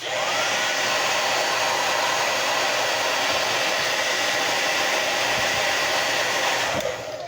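Hair dryer blowing steadily on mustache wax to warm it, a loud, constant airy roar held for several seconds before cutting off near the end, with no talking.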